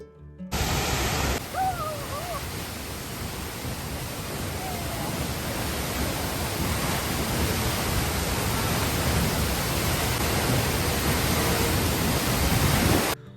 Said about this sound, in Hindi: लेकिन फिर हमें अचानक से दिखा एक वाटरफॉल।